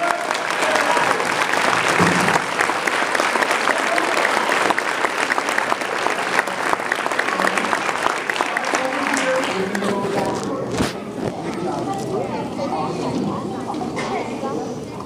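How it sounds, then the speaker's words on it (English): Audience applause at a concert: a dense, loud ovation of many hands that holds steady, then thins and softens toward the end, with faint voices mixed in. "One more big round of applause."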